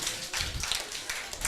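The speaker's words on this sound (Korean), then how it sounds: "박수 한번 쳐주세요." Applause from a small church group, a dense patter of hand claps spread across the clip, fairly close and steady.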